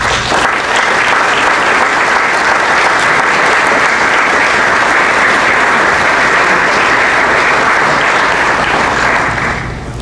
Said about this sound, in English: I'd like you to give him a round of applause